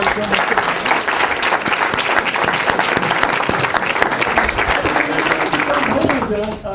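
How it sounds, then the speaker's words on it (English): A crowd bursts into sustained, dense applause at the close of a speaker program in the Jim Wood Speaker Series, with voices mixed in under the clapping. "How about a round of applause for"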